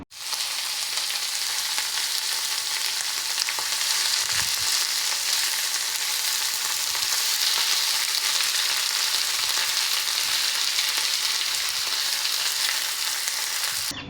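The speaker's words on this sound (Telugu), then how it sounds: "బోండా వేగినంత సేపు ఉంచుకొని తీసుకోండి." Egg bonda, boiled eggs coated in gram flour batter, fry in oil in a kadai with a loud, even sizzle that holds for the whole stretch, no talking.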